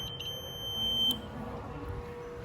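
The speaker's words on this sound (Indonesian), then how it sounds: "Lalu alarm akan berbunyi dan itu akan menandakan bahwa ada air pada lingkungan tertentu" A water detector alarm built as a school class project gives a short high electronic beep near the start, then a quieter tone fades into faint room noise.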